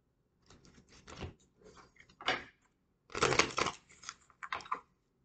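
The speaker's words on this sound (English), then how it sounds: "Okay, we have shuffled." Tarot cards being shuffled by hand make a few short papery riffling bursts, close and quiet, separated by brief pauses with no talking.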